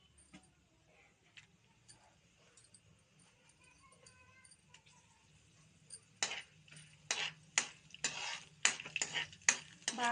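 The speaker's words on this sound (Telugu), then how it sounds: "ఆయిల్ కొంచెం వేసుకోవాలి, అన్నీ ఫ్రై చేసుకోవాలి." Chana dal frying in a little oil for curry leaf powder: a quiet, low sizzle, then a run of sharp, close scraping and clinking stirs of a spoon against the pan.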